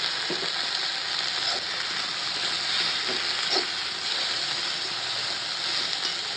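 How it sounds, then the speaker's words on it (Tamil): Mint and coriander leaves sautéing in a pan give a steady, loud, close sizzle and hiss throughout, broken by a few faint stirring clinks, with no talking. "இந்த புதினா கொத்தமல்லி வந்து வதங்கினது போதும்"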